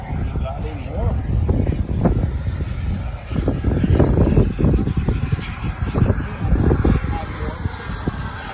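A 1/5 scale BVM F-16 model jet makes a gear pass at the Miami Jets 2023 event, its steady turbine roar swelling and holding for several seconds, with voices murmuring underneath.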